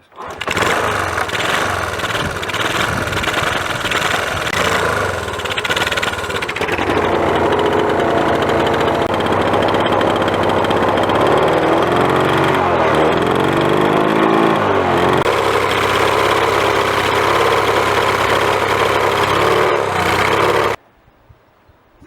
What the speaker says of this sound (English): I'll see if I can get the engine to start